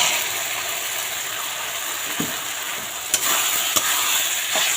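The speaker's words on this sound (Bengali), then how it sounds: "এখন আমি এর মধ্যে সিদ্ধ করে রাখা মটরটা ঢেলে দিয়ে দেব" Boiled peas tip into a pan of hot, fried spice paste, raising a steady loud sizzle with a few sharp clinks of a spoon against the pan near the end; no one speaks.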